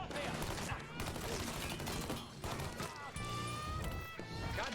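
Dense bursts of gunfire from the video game Mafia III crackle almost continuously, loud and close with brief gaps, layered over busy game noise.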